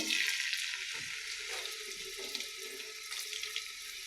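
Chopped onion and garlic frying in oil for a red amaranth greens stir-fry, a steady close sizzle with a few soft stirring knocks and no talk.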